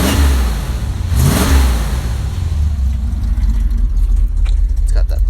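A 1980 K10 truck engine with a glasspack exhaust cold-starts loudly up close, cranking into a rising rev that flares and then settles into a rough, steady idle rumble.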